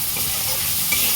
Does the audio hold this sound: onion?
yes